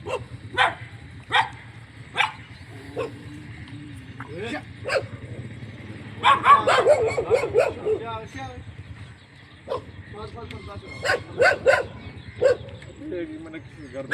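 A tracker dog barks in sharp repeated bursts inside a house it has entered, with a busier cluster of barks midway and more toward the end, over a low engine-like drone and some voices.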